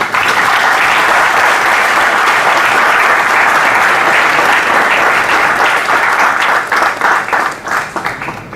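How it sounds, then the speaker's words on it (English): A large audience at the XLRI Digital Transformation Conclave 2024 claps loudly for the guests, a dense and sustained roar of hands that thins into scattered claps at the end. "Please give them a huge round of applause"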